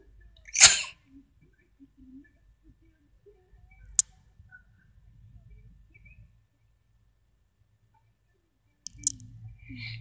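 A single sharp, loud sneeze bursts out near the start, followed by a few faint clicks and near silence, then a low murmur and a couple of small ticks at the end.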